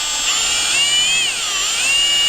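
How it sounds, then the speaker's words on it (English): Power drill with fairly sharp bits boring out parts on a Hurst quarter stick shifter, a steady high whine that dips and rises in pitch as the load changes, loud and close with no talk. "you actually have to drill them out"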